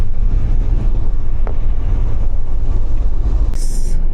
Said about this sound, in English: Look at that lorry there, splashing water.